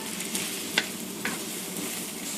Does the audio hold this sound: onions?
yes